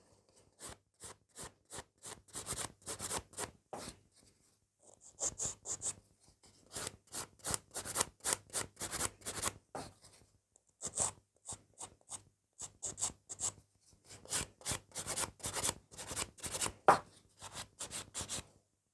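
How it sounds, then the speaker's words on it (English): A nail file rasps in quick bursts of short, dry back-and-forth strokes against the tip of a fingernail, close-up and steady, with brief pauses between the bursts. "I'm just filing the end of the nail."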